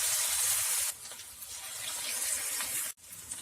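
Marinated chicken pieces deep fry in hot oil, a dense, loud hissing sizzle that swells and shifts as the pieces settle, heard alone without speech.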